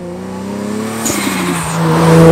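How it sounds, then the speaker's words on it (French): A 650 hp Toyota Supra MK4 with a full HKS exhaust line roars close and loud, its engine note climbing steadily in pitch as it accelerates through a short burst. "Avec sa ligne complète HKS, elle se retrouve avec les cordes vocales libérées et pour le coup c'est assez bruyant."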